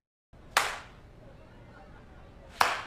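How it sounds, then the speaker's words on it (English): Two sharp, loud claps two seconds apart make a slow clap in the TV show Community, with faint room tone between them. "You can't talk and then do a slow clap."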